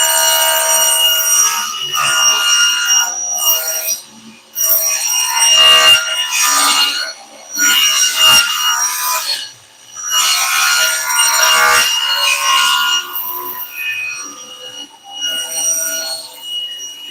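A saw rips wood strips for a custom pattern trellis in a woodworking shop, loud close cutting passes of a few seconds each, separated by short pauses.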